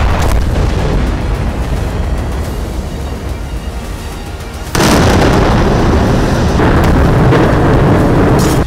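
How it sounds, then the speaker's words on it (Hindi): Artillery guns firing toward Gaza, a loud booming roar with rumbling blast noise throughout, a sharp new heavy blast cutting in midway and sustaining to the end. "इन्हीं आर्टिलरी गन्स की मदद से फायर किया जा रहा है गाजा पे।"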